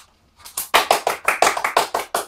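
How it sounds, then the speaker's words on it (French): A short burst of hand clapping from a few people after a candy tasting, about a dozen sharp, evenly spaced claps close by, starting after a brief silence. "Applaudissez-moi s'il vous plaît"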